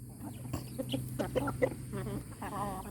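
Chickens cluck in a scattered run of short calls while being fed, close by and moderately loud over a steady low farmyard hum.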